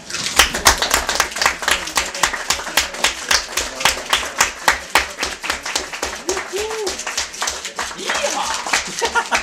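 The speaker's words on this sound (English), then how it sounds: "yeah, you wanna clap hands" Steady, rapid hand clapping in a regular rhythm during a lecture, close and fairly loud, with a voice talking briefly over it.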